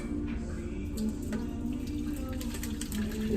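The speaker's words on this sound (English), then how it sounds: "Get this in the sink and get some water in there." Tap water runs steadily into a kitchen sink, a continuous close splashing rush with a few brighter drips and clinks on top, with no talking.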